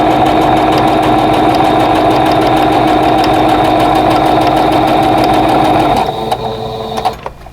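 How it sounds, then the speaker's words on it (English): A sewing machine loaded with 50 weight thread and a quarter-inch piecing foot stitches quilt pieces in a fast, steady whirring rattle, close and loud, then slows and stops near the end. "I have a 50 weight thread in my machine, and I've got my 1/4 inch piecing foot on, and I'm just going to sew these one at a time."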